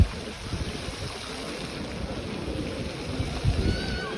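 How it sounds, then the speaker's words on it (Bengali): Boats moving on a lake next to King's Cross in London: a soft, steady wash of water and wind noise outdoors, fairly faint, with no one speaking. "লেকের মধ্যে নৌকা চলাচল করতেছে"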